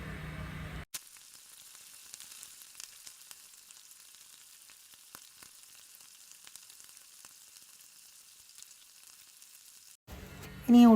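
Fried onions stirred into a Kerala-style egg roast in a pan give a soft, steady sizzle with faint stirring clicks, framed by brief louder kitchen sounds at the start and end.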